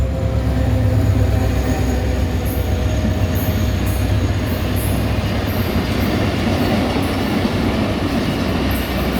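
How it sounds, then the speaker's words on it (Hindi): Millat Express passenger train with Chinese-built coaches rolls past near Malir station, a loud, steady rumble of wheels and rail noise with faint rhythmic clacking and a high squeal, continuous and close throughout. "चाइना की कोचेस का इंतज़ार कर रहे हैं और मिल्लत जो है वो हमारे सामने आ चुकी है।"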